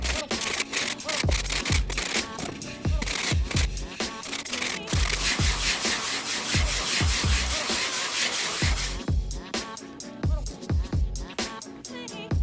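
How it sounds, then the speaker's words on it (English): A foam mace being sanded by hand against a piece of MDF makes steady, repeated rubbing and scraping strokes, loud and close, running continuously in a rhythmic back-and-forth pattern. "that's why we're sanding it against a piece of MDF"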